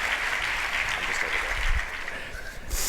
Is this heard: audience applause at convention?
yes